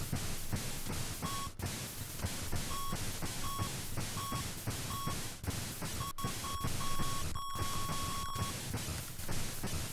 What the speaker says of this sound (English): the music in the game is a beep and a snare